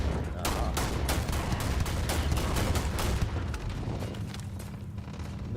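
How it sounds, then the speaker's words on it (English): Rapid bursts of gunfire from a Starfield firefight, a dense continuous crackle of shots with booming low rumble, slightly thinning toward the end. "It sounds like somebody's firing guns."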